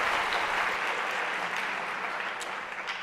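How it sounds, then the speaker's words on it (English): An audience at a school veterans ceremony applauds the technical crew, a dense, steady wash of many hands clapping at a constant loud level throughout, with no voices over it. "could we just give a big round of applause to all the people that are doing technical work here?"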